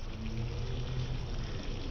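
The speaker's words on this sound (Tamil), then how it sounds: "இந்த ஒரு சைடு மழை பெஞ்சிட்டே இருக்கா" Steady rain falls outside beside a kitchen where fish is being fried, a continuous soft hiss and patter of drops that stays even and close throughout with no voices.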